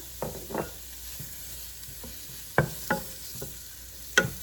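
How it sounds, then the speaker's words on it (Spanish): Onion and tomato sauté in about a tablespoon of oil for Salvadoran shredded beef; a low, even sizzle runs underneath while a utensil scrapes the pan in short, separate strokes, a few of them sharp and distinct. "vamos a usar un poquito de aceite, más o menos una cucharada, para lo que es a sofreír nuestra cebolla y el tomate"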